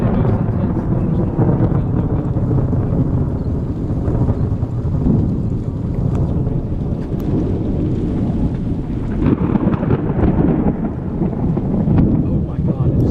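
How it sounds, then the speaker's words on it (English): Thunder from an intense summer thunderstorm rolls and rumbles loudly and continuously near the water, with rain and wind buffeting the microphone and a few excited voices partly under the din. "This is the most intense thunderstorm"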